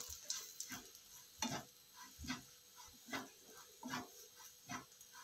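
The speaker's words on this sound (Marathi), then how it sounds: "आपल्याला 1 मोठा चमचा तेल टाकून व्यवस्थित भाजून घ्यायचे आहे" Curry leaves roasting in a spoonful of oil in a pan for chutney, heard as a soft sizzle broken by repeated scraping stirs in an uneven rhythm, fairly quiet and close, with no talking.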